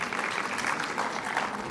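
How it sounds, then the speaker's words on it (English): Steady audience applause fills a university program hall, a dense, even wash of many hands clapping without pause, with no voices standing out. "Please give a big round of applause."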